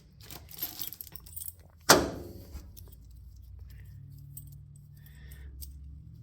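Someone rummages for the keys to a 1936 Chevy pickup: soft rustling, then a sharp, bright jangle of keys near the middle, followed by quieter handling.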